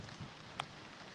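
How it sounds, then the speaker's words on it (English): Rain falling outdoors in a lush tropical setting makes a steady, even hiss, with one brief sharp tick partway through and no voices. "So it's raining."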